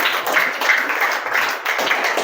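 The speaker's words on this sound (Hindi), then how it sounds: "चलिए, अंश के लिए तालियां हो जाएं" Classroom applause for a child named Ansh during a fun English family lesson, a short dense burst of clapping from a small group, steady and fairly close.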